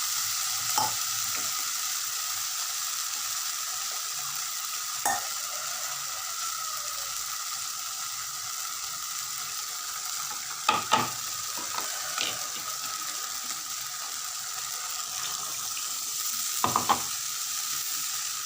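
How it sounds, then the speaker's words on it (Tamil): A thick sambar paste of ground toor dal and dried red chillies bubbles and sizzles steadily in a pan, with occasional clinks and scrapes of a spoon against the metal. "அரைச்ச விழுதை போட்டு நல்லா கொதிக்க விடணும்"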